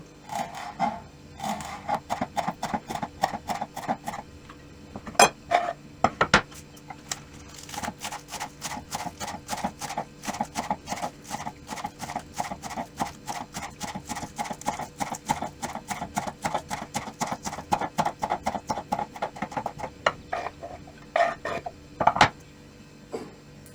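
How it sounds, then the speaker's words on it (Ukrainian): A knife finely chops fresh dill and green onion on a board, a fast, steady run of crisp close taps that continues almost without pause, with a few louder knocks. "Тепер до сиру я дрібненько наріжу зелень кропу і цибулі."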